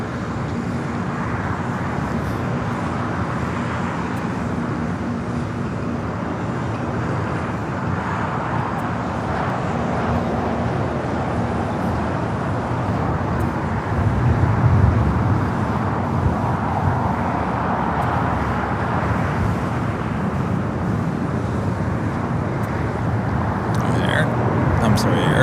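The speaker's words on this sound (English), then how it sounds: "Will be followed by Japan Airlines Flight 69 heading to Osaka, 787-9 Dreamliner." Steady jet roar from a Japan Airlines Boeing 787-9 Dreamliner departing LAX, sustained and swelling slightly midway, with road traffic and voices mixed underneath.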